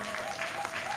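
Congregation in a church clapping and cheering in praise, a steady dense wash of applause from a crowd with voices mixed in, continuous and fairly even throughout.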